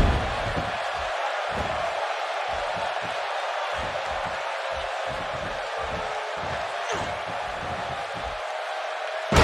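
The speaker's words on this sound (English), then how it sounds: "if you think this Dayton crowd has been loud so far" A virtual arena crowd in Dayton roars in the WWE 2K18 wrestling video game, a steady, loud wash of cheering that runs throughout while commentators talk over it.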